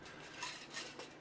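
Homemade barbecue sauce stirred in a pot on an electric stove, heard as faint, close scraping and clinking of a utensil against the pot in a short burst with no voices.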